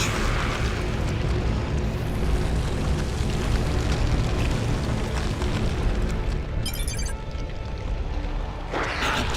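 Heavy, continuous barrage of venom cannon fire from Tyranid units during a Dawn of War II: Retribution campaign battle, a dense rumbling roar of overlapping blasts with sharp crackling bursts near the end.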